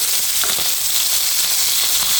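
A sea fish just flipped over in hot oil sizzles loudly and evenly up close, a dense crackling fry with no voices.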